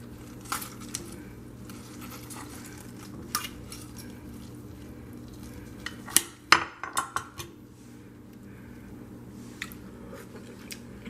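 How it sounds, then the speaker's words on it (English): Knife slicing tender cooked corned beef brisket from an instant pot, a quiet cluster of soft cuts and light clinks against a plate or board near the middle, with low kitchen background before and after. "And here we have our brisket, guys. Let me slice some."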